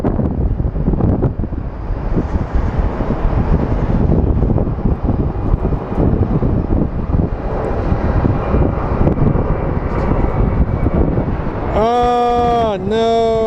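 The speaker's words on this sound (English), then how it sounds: "Big boy DHL taking off." A large DHL cargo jet roars down the runway on takeoff at Phoenix Sky Harbor Airport, a loud sustained rumble with wind buffeting the microphone, and a sharp rising whine near the end.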